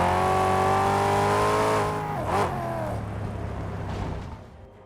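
Tyreless car in Mad Max sliding about on bare rims, a loud steady engine drone with a scraping, pitch-bending slide midway that fades toward the end.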